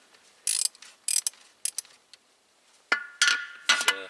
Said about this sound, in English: using a good old SK half-inch drive ratchet here, standard 10-inch ratchet